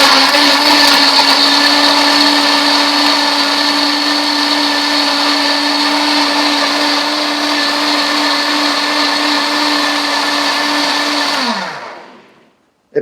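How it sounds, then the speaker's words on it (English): A Waring blender with fruit inside and the lid on whirs loudly and steadily for about eleven seconds, then winds down and stops. "We're going to turn the blender on with the top on."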